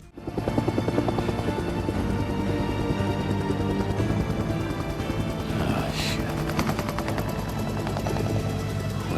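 A helicopter in the Days Gone video game, with a dense, continuous rotor and engine roar that stays loud and steady throughout, with sharp crackling bursts mixed in.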